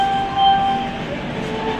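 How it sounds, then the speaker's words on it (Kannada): The Bidar–Machilipatnam Superfast Express leaves Secunderabad Junction with a low rumble and faint metallic squeals and clinks heard from on board, no voices present. "ಸಿಕಿಂದ್ರಾಬಾದ್ ಜಂಕ್ಷನಿಂದ ನಾವು ಹೊಡ್ತಾರ ಬೀದರ್ ಮಚಿಲಿಪಟ್ಟಣಂ ಸೂಪರ್ಫಾಸ್ಟ್ ಎಕ್ಸ್ಪ್ರೆಸ್ ಟ್ರೈನ್ ಬಿಡ್ತಾ ಇದೆ ನೋಡ್ರಿ"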